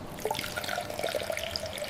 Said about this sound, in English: Coconut halves are washed with hot water, ensuring hygiene and preparing for extraction.